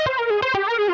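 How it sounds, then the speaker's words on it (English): A bright, buzzy FM synth lead on a Yamaha YC61 plays a short run of notes, its harmonics gritty with distortion, loud and upfront with no voices. "The second sound here is an FM synth lead"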